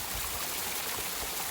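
A cold mountain stream flows steadily nearby, a continuous broadband rush and gurgle of water with no voices.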